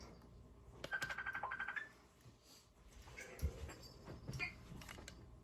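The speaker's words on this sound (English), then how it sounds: "I'd say my phone's ringing." A mobile phone rings with a brief warbling trill of repeated tones, fairly faint, followed by quiet background rustling and no voices.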